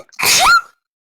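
One sharp sneeze sounds close to the microphone, short and loud, with brief quiet before and after.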